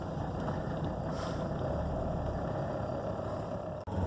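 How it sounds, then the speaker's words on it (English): A 1982 Mercedes 300TD diesel engine idles steadily just after a cold start, a continuous near rumble running alone and unbroken until a brief dip near the end. "So we're going to do a cold start here, let the glow plugs go."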